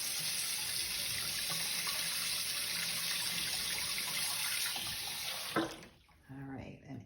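Water runs steadily from a kitchen tap into a sink with a constant hiss, then is shut off, leaving a few drips and clinks.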